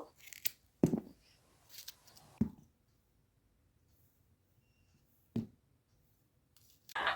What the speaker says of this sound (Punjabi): ਸ਼ਿਮਲਾ ਮਿਰਚ ਜਿਹੜੀ ਆ ਉਹ ਵੀ ਇਸੇ ਸਾਈਜ਼ ਦੀ ਕੱਟ ਲੈਣੀ ਆ